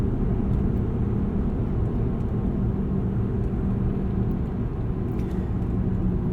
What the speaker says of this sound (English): Normally, this truck isn't this loud on the highway, except for the tire whine.